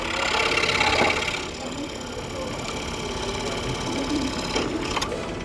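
A scroll saw makes internal cuts in wood while its air blower clears sawdust, giving a steady, close rapid buzzing with slight shifts in intensity as the blade works through the piece.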